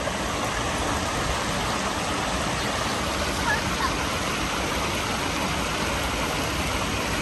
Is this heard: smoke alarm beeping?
no